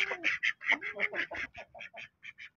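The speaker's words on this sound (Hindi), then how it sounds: "अब अपनी डक्स और मुर्गे को खोल देते हैं" Ducks quack in a rapid, close series of calls as they are let out of their pen alongside roosters, the quacks loud and clustered, then thinning into shorter separate bursts.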